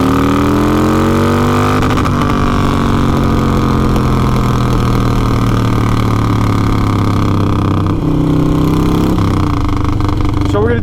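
A motorcycle about to be rebuilt runs loud and close, its engine idling steadily with a couple of revs that dip and rise in pitch, while someone talks over the constant mechanical drone.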